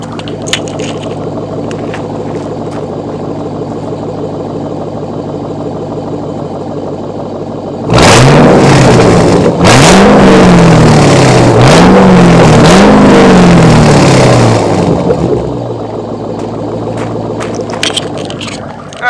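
A car engine with an MBRP axle-back exhaust idles, then revs hard several times in quick succession with loud throaty exhaust bursts before settling back to idle, on a warm startup.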